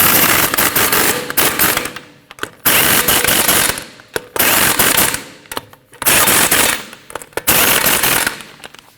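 An impact wrench tightens lug nuts on a Ford Escape wheel in loud rapid rattling bursts, four or five long runs separated by short pauses, close up.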